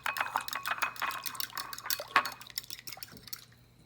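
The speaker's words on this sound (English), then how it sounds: "Get this all stirred up with a fork" Fork stirring salad dressing of ground pepper and salt for a beet salad with blood orange and tarragon, a run of quick clinking scrapes against the bowl, close and busy, fading near the end.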